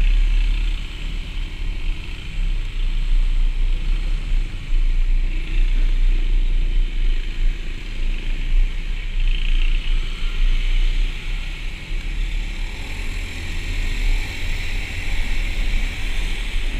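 Steady traffic rumble on a mountain road near Tagaytay, with motorbike riders and vehicles passing continuously at moderate distance under a constant wash of road and wind noise.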